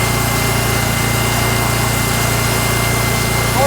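A post driver machine fitted with a jackhammer runs continuously on a parking lot, a dense, steady mechanical hammering rattle close by with no pauses.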